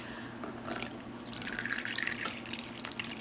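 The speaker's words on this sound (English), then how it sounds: "So I'm gonna go ahead and fill these up to the fill line." Liquid is poured into Zoku ice pop molds, a soft close trickle with faint drips and small plastic clicks, quiet and continuous, with no talking.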